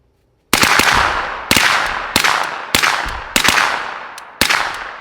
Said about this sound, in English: if the mac's out on the range, I gotta try to bump fire it